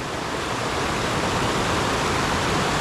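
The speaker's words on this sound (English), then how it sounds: "Just look at all these beautiful cascades." Waterfall cascades on Cuffs Run, a forest stream near where it meets a river, pouring in a steady, loud, broadband rush that fills the whole span without pause and with no voices.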